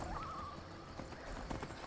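Steady clip-clop of horse hooves on hard ground in the video game Skyrim Special Edition, modded, close and continuous, with a brief whinny near the start and a low ambient bed underneath.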